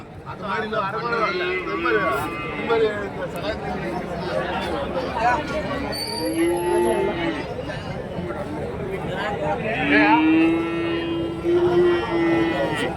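Calves and cattle low at a crowded livestock market in Karimangalam, Dharmapuri district, with a couple of drawn-out moos rising above a steady babble of people talking nearby.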